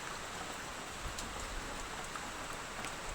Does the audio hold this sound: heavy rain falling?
yes